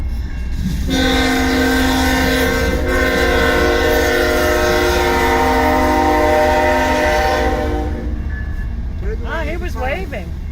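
CN freight train passing in Richmond, Michigan, loud and close with a long steady rumble and a sustained horn blast, ending as the noise drops and people start talking.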